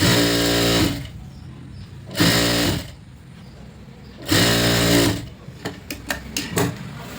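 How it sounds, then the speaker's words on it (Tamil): A sewing machine stitches a folded blouse body piece in three loud, close bursts of rapid whirring, separated by pauses, followed by a few short taps and clicks. "மடித்து ஸ்டிச் போட்டுடலாம்"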